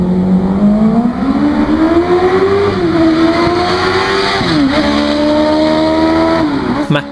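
A car fitted with a Suzuki GSX-R 1000 motorcycle engine screams continuously at high revs, pitch rising and dipping as the throttle opens and eases, loud and close with a brief drop near the end.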